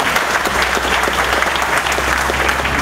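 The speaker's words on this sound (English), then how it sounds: "Can we give her another round of applause?" An outdoor audience at the Laurel Town Center groundbreaking ceremony gives another round of applause for a speaker, with continuous close clapping at a constant, full level throughout.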